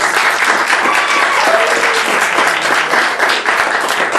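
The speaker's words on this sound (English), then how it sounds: "Give him applause" A live improv show audience claps steadily for a performer, a dense, loud wash of applause lasting throughout with faint voices mixed underneath.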